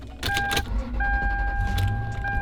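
A 16-year-old Toyota Land Cruiser started with the key, with a low engine rumble throughout and a steady electronic warning chime sounding close and clear in two separate bursts; no one talks.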